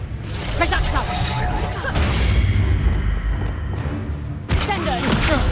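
A Reducto blasting spell from Hogwarts Legacy erupts in loud, dense booming blasts with crashing debris and swooshes, sustained through the moment amid busy battle noise, with sharp new bursts breaking out near the end.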